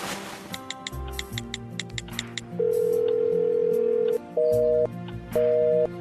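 A telephone call is hung up. Soft ticking clicks come first, then a long, steady electronic tone, then two shorter beeps at a higher pitch separated by brief gaps.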